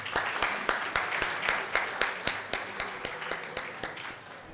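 Applause at a panel discussion sounds as a small group of people clapping in a steady, fairly even rhythm, the sharp claps clearly separated and moderately close.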